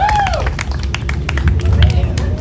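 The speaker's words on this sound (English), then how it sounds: "Can we please have a huge round of applause for the wonderful Jerome?" A crowd claps and cheers for a performer at a magic show at an Arabic festival in Calgary, loud and close, with voices and hubbub mixed in.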